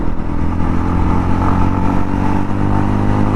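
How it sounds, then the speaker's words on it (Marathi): A Yezdi Roadster motorcycle's engine pulls hard and loud, its deep, steady exhaust drone rising under acceleration up close with no talk over it. "थोडीशी गाडी खेचून बघूया आपण"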